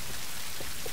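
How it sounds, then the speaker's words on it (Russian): In the Tomb Raider video game, rain falls as a steady, dense hiss of drops hitting surfaces, even and unbroken, at a soft level with no voices over it. "И походу я опять триггернул сцену с дождем."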